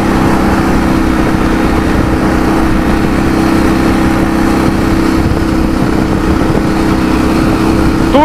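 Ural motorcycle engine running steadily while riding on the road, a loud continuous low drone with wind roar throughout, no pauses.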